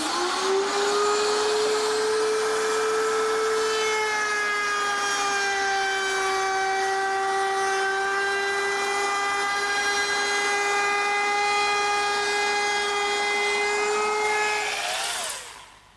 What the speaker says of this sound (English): Now, this router is mounted underneath a router table, and I've set it up with a 3/8 inch radius roundover bit with a pilot bearing.